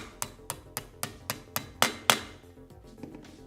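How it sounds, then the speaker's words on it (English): Steady hammer taps on a part of a Columbia drywall angle finisher, about eight sharp, evenly spaced knocks growing slightly harder, then a few softer taps trailing off, close and clear with no talk. "For the bottom one, place it over top of the two slots, center it, and tap it down."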